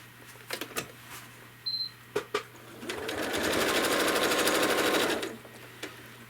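A sewing machine stitches a quilt along a stencil line, with a few short bursts and then a sustained whirring run of several seconds, close and moderately loud.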